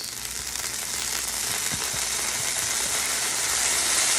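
Ghee sizzles loudly and continuously on a hot sizzle plate heated in a 450-degree oven, a bright crackling hiss that swells slightly as it goes on, heard up close.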